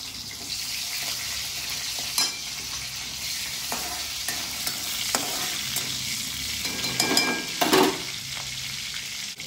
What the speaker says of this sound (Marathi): आता उरलेल्या तेलामध्ये मिरची फ्राय करून घ्यावी.